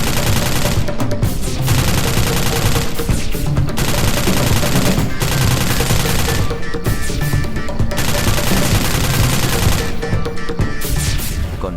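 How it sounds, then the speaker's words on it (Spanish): A loud, sustained exchange of gunfire fills the scene, with dense volleys of rapid shots and bursts broken by brief lulls before the firing resumes. "Comenzó un intercambio de disparos."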